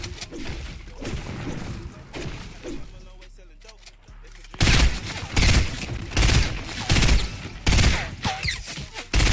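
Video game gunfire in loud, repeated bursts of shots and crashes, broken by a short quieter gap, while people talk excitedly over it.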